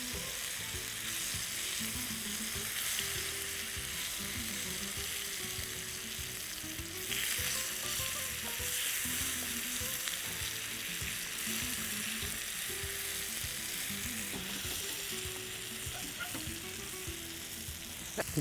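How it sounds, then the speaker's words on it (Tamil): Slices of elephant yam deep frying in hot oil, a steady dense sizzle and bubbling that runs unbroken and loud from start to finish, with no voices over it. "நீங்கள் எண்ணெயில் போட்டு பொரிச்சு எடுத்திங்கன்னா அதோட டேஸ்ட்டே வந்து சூப்பராக இருக்கும்."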